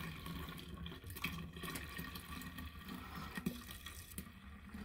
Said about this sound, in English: And topping up the filtered water.